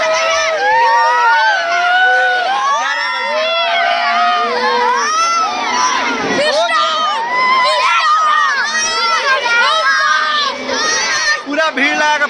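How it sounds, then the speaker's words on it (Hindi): A dense crowd of schoolchildren shouting and cheering at a school maths fair in Siwan, loud and close, with overlapping excited voices continuing throughout. "पूरा भीड़ लगा, पूरा सिस्टम हैंग कर दिया"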